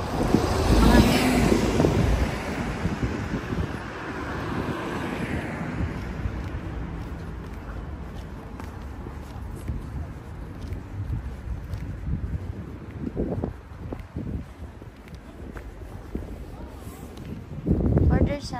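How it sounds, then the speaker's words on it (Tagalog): Gusty wind buffets the microphone outdoors, loud rumbling bursts at the start and end, with a person talking through much of it. "malamig kasi mahangin"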